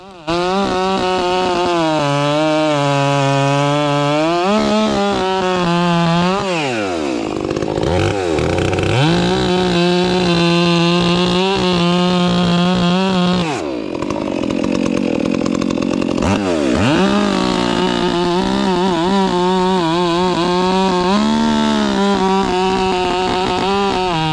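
A chainsaw fitted with an RS 33 steel chain roars loud and close, its engine revving up and down through several throttle swells and dips, with no talk over it.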